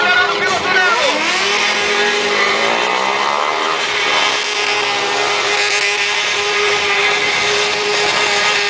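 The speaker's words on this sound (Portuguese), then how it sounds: "Vem acelerando o piloto Neno." A race car accelerates at a street racing event, its engine revving loud and continuous with rising and falling pitch sweeps, a fairly close pass with a commentator talking over it.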